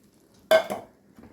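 A spatula scrapes through a dragon flower stir-fry with four eggs just added to the pan, making one short, fairly loud scraping clatter followed by near silence.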